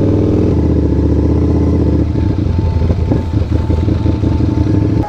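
A Ducati V4S big bike roars loudly up close, a throbbing multi-cylinder engine whose pitch drops as it shifts, then settles into a rough, rumbling run.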